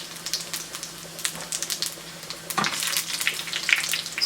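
Dried red chillies and cumin sizzle in hot oil for a tempering, a steady crackling fry that grows louder and busier partway through, with a few sharp pops.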